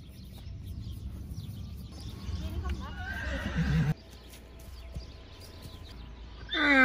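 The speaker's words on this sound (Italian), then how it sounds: "Siamo venuti a far visita a questo bel cavallo" A horse at a farm stable on an agritourism estate in Basilicata, Italy, whinnies loudly near the end after quieter shuffling and hoof clops, with faint birdsong in the background.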